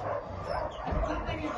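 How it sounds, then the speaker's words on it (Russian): Several small dogs bark and whimper around a mother dog with her newborn puppies near a church, the yips steady and close amid a human voice talking. "Собаки лают, переживают."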